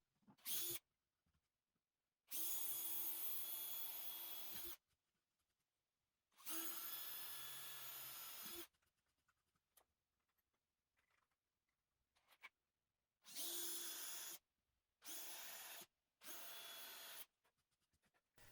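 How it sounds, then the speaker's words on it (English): A power drill bores and countersinks screw holes in MDF in several separate bursts, each a steady whining buzz lasting one to two seconds with quiet gaps between, heard up close with no talking. "I then drill and countersink some holes for the screws."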